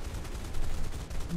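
Aircraft guns firing in the War Thunder combat flight game, a rapid burst of dense overlapping gunfire at moderate loudness, brief and continuous.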